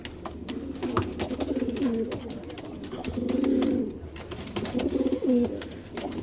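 Young silver pigeons, a pair of Giribaz birds in a loft, cooing in three low rolling bursts at close range over faint background chatter and clatter.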